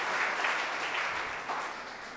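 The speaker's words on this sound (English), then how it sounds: "Let's give a warm of applause to them." An audience at a chapel in Greenhills, San Juan gives a steady round of applause, a dense wash of clapping held at moderate level for a couple of seconds.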